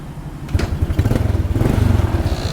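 An old motorcycle engine revs up, its throbbing putter growing louder and faster, loud and close with no talking.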